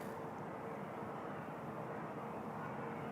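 A China Southern cargo airliner arrives on the south runway at Toronto Pearson, giving a steady, distant jet roar that holds evenly throughout with no talk.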